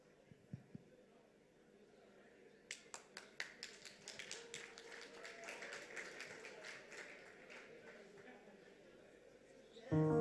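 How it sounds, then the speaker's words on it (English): Applause for a performer at a gala dinner: a few scattered claps build into a quick burst of distant clapping from the room, which thins out before a loud sound cuts in at the end. "Give a big round of applause to Maya."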